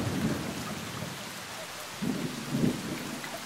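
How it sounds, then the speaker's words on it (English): Steady rain patters in the Along Together VR game world, with two low rumbles of thunder rolling in near the end, all fairly quiet and with no voices. "And now it starts to rain?"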